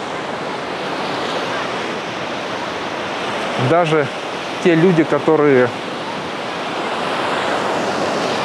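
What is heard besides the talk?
stormy sea waves and strong wind on a beach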